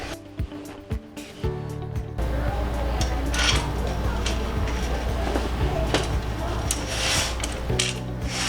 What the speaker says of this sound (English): that's where you're going to thread the pole through